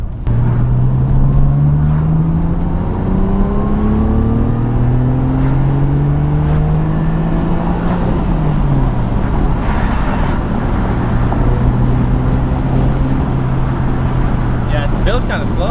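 A Nissan R33 GT-R engine revs high and steady toward 8,000 rpm while driving, pitch climbing and holding, with road and wind noise under muffled talk.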